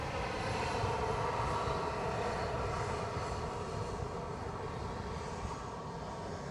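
A JetBlue jet at Edinburgh Airport makes a steady, broad roar that holds level throughout, moderately distant, with no voices over it.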